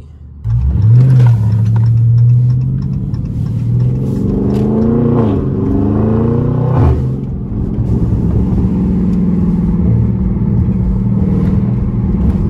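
Catless Chrysler 300 SRT with all windows up, the engine revving loudly through a series of downshifts at night, deep rising and falling exhaust roars with crackle, heard from inside the cabin.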